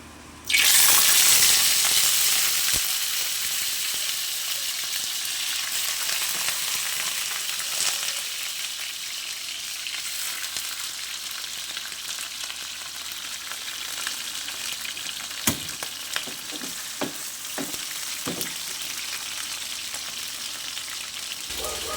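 Food, likely fish, frying in hot cooking oil in a home kitchen: a loud, steady, close sizzle that bursts up when the food goes in and stays continuous, with a few faint clicks and knocks of utensils and no talking.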